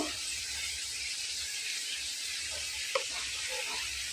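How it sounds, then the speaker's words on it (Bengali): Vegetable snacks and potato frying in hot oil, a steady soft sizzle with a few faint clinks of a utensil near the end. "তো আমি এগুলোকে আরেকটু ফ্রাই করে তারপরে আমি তুলে নেব"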